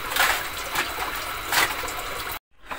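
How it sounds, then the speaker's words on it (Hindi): Water pours steadily into water cans at a village poultry farm, a continuous splashing trickle with a few louder surges, then a brief silent cut before the flow resumes. "ये पानी भर रहा हूँ"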